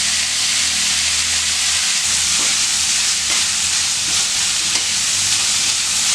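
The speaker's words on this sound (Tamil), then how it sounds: "காய் நல்லா வதக்கியாச்சு." Carrots and beans stir-fried with red chilli powder in a pan, giving a loud, steady sizzle and hiss that continues without a break, with no talking.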